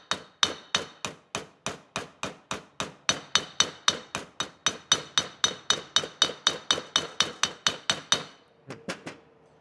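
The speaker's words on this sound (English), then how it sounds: "That's my hammer hitting the seal and the hub at the same time" Hammer tapping a seal into a trailer wheel bearing hub, about thirty sharp metallic taps in a steady, even rhythm, close and clear, ending with a few lighter taps.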